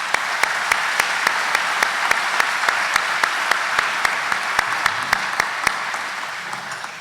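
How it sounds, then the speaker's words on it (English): Audience applause at a chamber of commerce annual meeting, a full, continuous round of clapping from a large room, with sharp individual claps standing out in a regular pattern before it thins out. "please join me in a round of applause for our chamber leaders"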